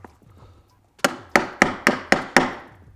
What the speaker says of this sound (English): use the side of the hammer to try to hit away from the wall